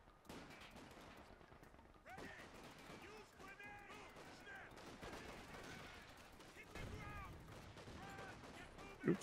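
Gunfire and explosions from the Company of Heroes 2 battle game, mortar shelling among dense bursts of shooting, with a sharp thud near the end, all fairly faint.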